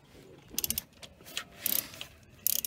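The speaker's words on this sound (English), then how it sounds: "just removing the E12 Torx bit." Short bursts of fast clicking from a ratchet backing out E12 Torx bolts on a Mercedes M113 V8 / M112 V6 engine, several separate rattling runs, close and alone.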